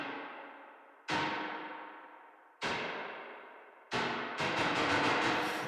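The kick function of a spring reverb plugin strikes the emulated springs again and again, each hit a sharp metallic crash with a long decaying boing, and the final strikes come in a rapid flurry.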